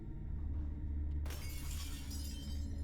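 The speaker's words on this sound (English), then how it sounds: "I just heard the smashing of glass." Glass window smashing in a video game, a sudden bright shatter breaking in partway through over a low steady rumble of ambient game sound.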